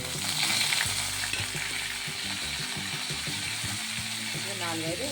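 Curry leaves sizzle and crackle in hot oil in a pan for Hyderabadi bottle gourd dalcha, a steady close frying hiss with scattered pops and stirring clinks, and a voice heard briefly near the end.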